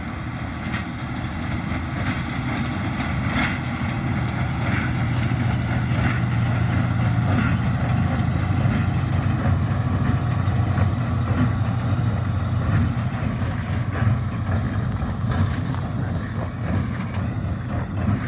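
A heavy Fendt tractor engine drones steadily and loudly while running a Krone Big Pack 1290 hay baler with alfalfa hay, a constant low mechanical rumble with faint rattling on top, no voices.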